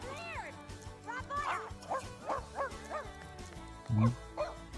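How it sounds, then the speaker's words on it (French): A dog in The Sims Pet Stories video game barks and yips in a quick series of short, bright calls, with one deeper woof near the end, over soft background music. "Allez Sam, traîne pas à aboyer."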